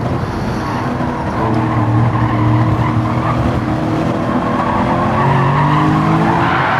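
A race car in Gran Turismo 7 spins out at Dragon Trail Seaside, tires skidding and squealing in a loud continuous screech over the engine's drone.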